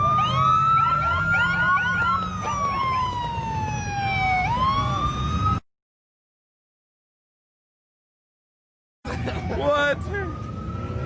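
A police car siren wails loudly and close with sweeping rising and falling tones over engine and crowd noise, cutting out for a few seconds before the siren resumes.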